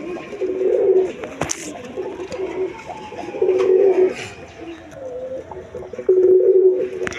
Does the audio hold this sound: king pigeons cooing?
yes